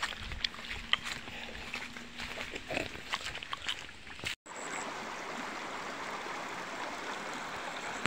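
The Daraita river flows in a steady rushing wash that takes over after a brief cut. It follows a stretch of scattered rustling and small knocks, with no talk.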